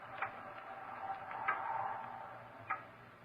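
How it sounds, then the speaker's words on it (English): Loud ticking clock in an old-time radio drama, a few distinct ticks heard close over a soft hiss of background noise, no speech. "It's a loud clock, ain't it?"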